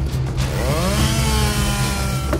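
A chainsaw runs steadily and loudly at a 2013 Turkish forestry championship, its engine pitch rising and falling as it revs, over a constant mechanical roar.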